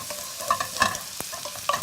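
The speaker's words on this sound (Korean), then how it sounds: "해서 기름을 이제 생강향을 빼내는 거죠." Sliced ginger fries in a generous pool of oil in a tilted pan, crackling and sizzling with a few sharp pops while it is stirred.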